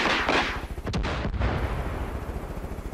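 A rocket launcher fires in the video game Far Cry New Dawn: a loud, booming blast followed by a couple of sharp cracking impacts and a lingering rumble, with no voices.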